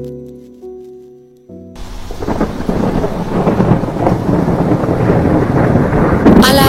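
Thunder rolls and rain pours in a storm at sea, a steady loud roar with wind rumble that swells after a quiet musical opening.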